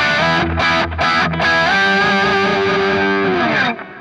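Distorted electric guitar through a Kemper amp profile with the Hot Knife effect engaged for a mids-forward voicing, choppy rhythmic chord stabs giving way to a long sustained chord, loud and close.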